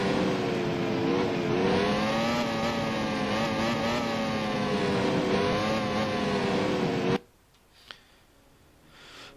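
Race cars in the Grand Prix 4 video game drone loudly and continuously, engine tones rising and falling together, then cut off abruptly, leaving near silence with a single soft tap.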